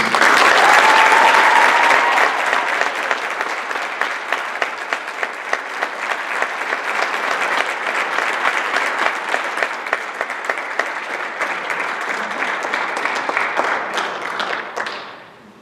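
A school auditorium audience gives sustained applause for all-state high school orchestra students at a spring concert, a dense, steady wash of many hands clapping that carries on for about fifteen seconds before tapering off abruptly.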